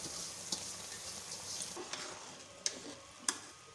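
Zarda sweet rice being stirred in a pot over low heat: faint continuous scraping and shuffling, punctuated by a few sharp clicks of the utensil against the pot, with no talking.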